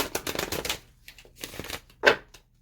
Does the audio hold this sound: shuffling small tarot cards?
yes